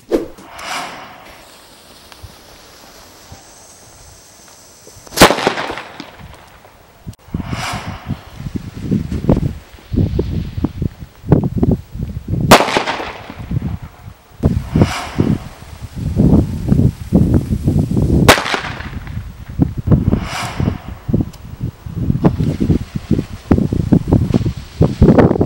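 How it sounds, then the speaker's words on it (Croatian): Orion F2 category firecrackers, Baby Magnum, Super Boom XL, Bomba and Thunderbolt among them, go off outdoors as a series of sharp, loud bangs spread several seconds apart, with crackling and rustling between the blasts. "testiranje novih petardi F2 kategorije"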